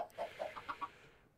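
Chickens cluck in the video game Minecraft, a quick run of about five short, soft clucks in a row that fade into quiet, with no talk over them.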